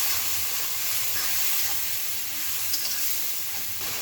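Spices and coriander powder frying in a pan with fish curry masala for a pangas fish dish, a steady close sizzle and hiss throughout with faint stirring, no voices.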